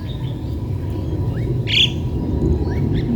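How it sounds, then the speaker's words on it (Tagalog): Many birds call across a soccer ground in Hong Kong at sunrise, around 7 a.m.: scattered chirps and tweets over a low, steady background hum, with one louder, brighter call standing out midway. "Ang dami yung mga ibon, oh."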